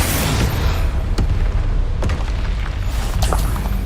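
Explosive spell blasts in the Hogwarts Legacy video game: a loud, continuous rumbling boom with several sharp bursts and pops layered over a dense, roaring game soundscape.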